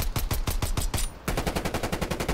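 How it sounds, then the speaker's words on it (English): Rapid automatic gunfire in a Call of Duty Cold War prop hunt match, two close, loud bursts of fast repeating shots separated by a brief pause, with no talking. "What the fuck are you shooting at me for?"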